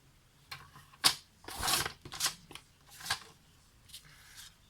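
Paper card for scrapbooking being cut: several short crisp snips and a longer slicing rasp, close and clear, with quiet pauses between cuts and no talking.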